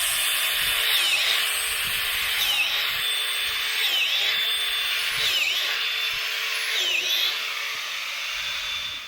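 An angle grinder with a drilling attachment bores holes into a mushroom log for shiitake or oyster plugs, a steady close whine with five repeated dips as each hole is cut.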